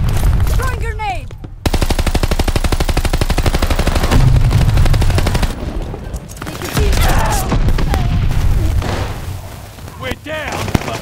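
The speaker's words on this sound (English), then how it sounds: "Throwing grenade." Dense automatic gunfire rattles continuously through a Call of Duty Vanguard match on the Shipment map, with booming grenade blasts and heavy low-end impacts, loud and close, while game voice lines and callouts sound over the combat.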